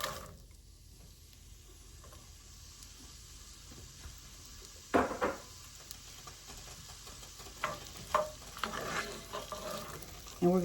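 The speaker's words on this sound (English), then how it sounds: "we're going to saute this until the onion gets tender and starts getting translucent" A chopped yellow onion sautés in a pan with melted butter, a low steady sizzle broken by louder scraping and stirring clatters in the second half, with no talking.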